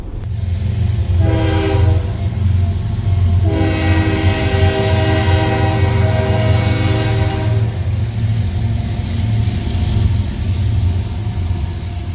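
A CSX freight train, train 0730 bound for Prairie Yard in Mulberry, rolls past a level crossing with a loud continuous rumble, sounding two long horn blasts, the second held for several seconds, with no talking.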